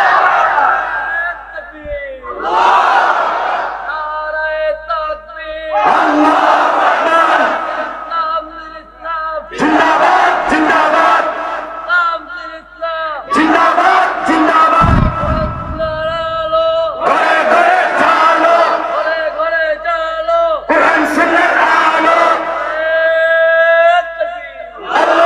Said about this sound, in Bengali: আল্লাহ দেখো তোমার পাগলগুলা দুনিয়ার সবচেয়ে এই আওয়াজ দিয়ে ফেলেছে, নারায়ে তাকবীর, আল্লাহু আকবার